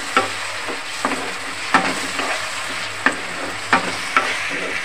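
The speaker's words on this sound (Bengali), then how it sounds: "পেঁয়াজটা ভাজা হয়ে গেছে, আগে থেকে পেস্ট করে রেখেছিলাম কাজু বাটা আর কাঁচা লঙ্কা দিয়ে দেবো, দিয়ে একটু নাড়িয়ে নেব।" Cashew paste and green chili are stirred into fried onions in a pan, with a steady sizzle broken by a spoon scraping in repeated strokes about every half second to second, close and alone.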